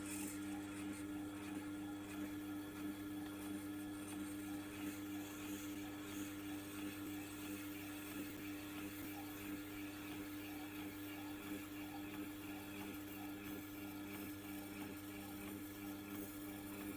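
A Tormek T8 sharpening machine grinding a Victorinox knife: a steady, faint whirring motor hum with a continuous low grinding drone that holds unchanged throughout, no talk.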